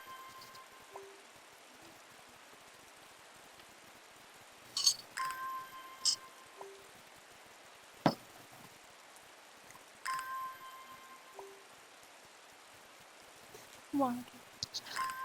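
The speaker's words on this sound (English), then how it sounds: "Water the plants, water the plants." Watering plants in the puzzle game Strange Horticulture: faint, soft rain-like trickling sits under a quiet ambient background, broken by a few brief chimes and clinks from the game's interface.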